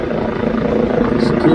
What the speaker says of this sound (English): A helicopter flying just above.